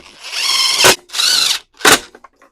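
A power drill drives three screws into a Briggs and Stratton lawnmower housing, with loud close whirring bursts that ramp up and cut off sharply, the third short, followed by a few small clicks.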